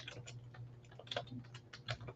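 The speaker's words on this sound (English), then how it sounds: "I'm typing" Soft typing on a computer keyboard during a live chat stream, irregular light key clicks heard faintly and fairly close against a low steady hum.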